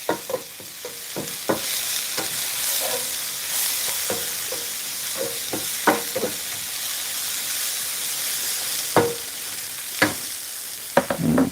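Garlic and onion fry in a hot pan, a steady close sizzle with scattered sharp scrapes and knocks of stirring over roughly eleven seconds.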